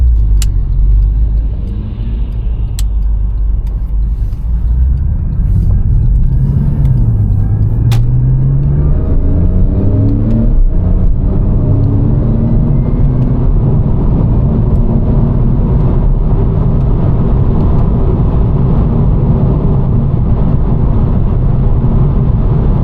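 A Porsche with a Bose stereo sets off on open country roads in the Cotswolds, its engine a steady, loud rumble that climbs in pitch as it accelerates, running continuously throughout.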